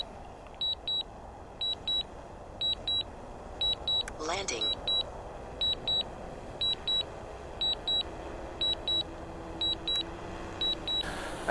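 A DJI Mavic 2 drone comes down for a precision landing in the snow, with crisp paired beeps repeating at a steady pace over a quiet, low background hum.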